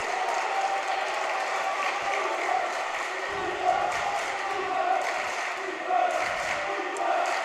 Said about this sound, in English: The crowd is absolutely back in and chanting defense.